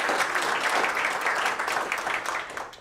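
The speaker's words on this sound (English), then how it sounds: "one more round of applause for Miss Michelle Missy Cole" At an awards finalist announcement, an audience gives a dense, continuous round of applause that holds steady, then fades toward the end, moderately distant.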